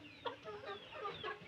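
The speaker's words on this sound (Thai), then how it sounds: "เขาจะเลี้ยงไก่โครงการนี่ไก่โครงการน่ะ" Chickens raised for a farming project cluck softly in a rural village in Laos. Several short, faint clucks come in quick succession, close by and with no other sound.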